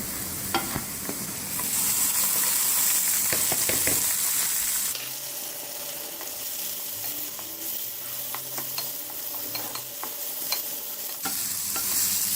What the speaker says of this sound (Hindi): इसमें अब मैं प्याज डाल दूंगी, और ये साथ साथ उसके प्याज के अंदर भूनते रहेंगे।